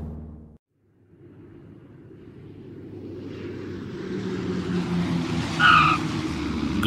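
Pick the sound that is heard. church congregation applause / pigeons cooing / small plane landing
small plane landing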